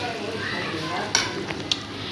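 Okra (bhindi) stirred in a frying pan with browned ingredients, a low continuous sizzle with a couple of sharp spoon clinks against the pan.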